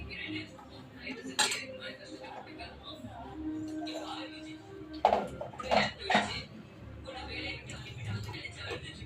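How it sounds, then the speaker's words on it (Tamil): Metal spoon clinks against a tumbler while a spice mixture is stirred and poured into sambar, irregular close taps and scrapes with soft liquid pouring, under quiet kitchen background noise. "இதை அப்படியே சாம்பாரில் மிக்ஸ் பண்ணி ஊற்றுறேன்."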